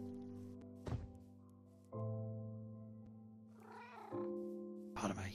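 A white cat meows in Minecraft, its short in-game mews rising over a steady game soundtrack and a few dull thunks.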